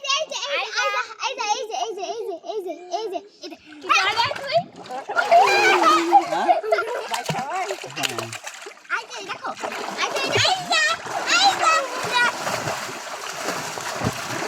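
Children splash in a village pond while bathing, water slapping and sloshing close by, under lively kids' voices and adult talk throughout.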